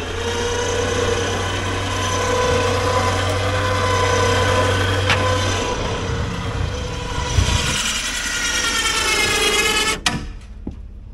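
A truck bed winch powered through a 7-pin trailer plug pulls a stump grinder up into the bed, giving a loud, steady motor whine and hum that strains and shifts near the end.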